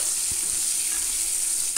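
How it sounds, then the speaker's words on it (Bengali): Potatoes fry in a pan with a little salt and turmeric for a winter mixed-vegetable khichuri, giving a steady close sizzle with soft scraping of stirring throughout and no talk. "এরপরে আমি এখানে আলু ভেজে নিচ্ছি। সামান্য একটু লবণ আর হলুদ দিয়ে দিলাম।"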